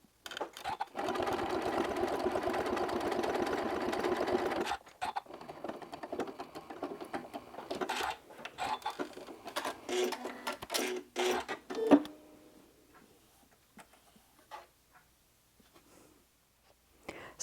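A sewing machine stitches a decorative stitch down the center of a fabric leaf appliqué for a quilt, a steady close whir in bursts that stops partway, followed by quieter handling sounds.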